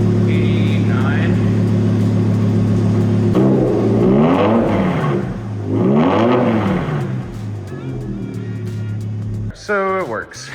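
BMW E60 M5 engine with an upgraded fuel pump idling then revved twice, each rev swelling and falling in a smooth rising-and-falling whine, close up, settling back to idle.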